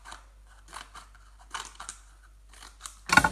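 Scissors cut into cereal box cardboard in a series of crisp snips, spaced irregularly and close by, ending in a sharper crunching cut; no talk over them.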